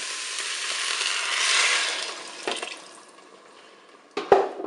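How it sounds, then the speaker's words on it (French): Broth is poured into a Cookeo multicooker over chickpeas, a soft close liquid splash that swells and fades, followed by a few clinks and a sharp knock at the end. "Maintenant, je vais verser mon bouillon."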